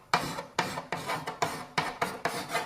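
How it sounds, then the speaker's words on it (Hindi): Chalk rasps across a blackboard in about seven quick, rhythmic strokes, each a gritty scrape starting sharply and fading, close up with no talking. "ब्लैक बोर्ड पर चॉक घिसने की आवाज।"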